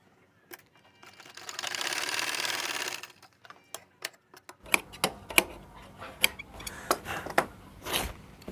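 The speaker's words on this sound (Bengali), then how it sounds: "এই মাথায় একটা সেলাই করে দিব" A sewing machine stitches the back pocket of a pair of pants, a dense whirring run followed by a series of separate mechanical ticks and clacks, close and unaccompanied by voices.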